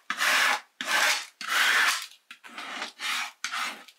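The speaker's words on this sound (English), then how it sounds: "push down the vinyl onto the transfer tape, work it on both sides" A large plastic scraper is rubbed firmly over vinyl on transfer tape for a horse stall sign, giving six rasping strokes in a steady back-and-forth rhythm, close and loud, with short gaps between strokes.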